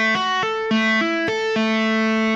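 Distorted electric guitar playing a rapid legato phrase of hammer-ons, a fretboard tap and pull-offs, about six crisp notes in quick succession ending on a held tone, close and solo with no voices.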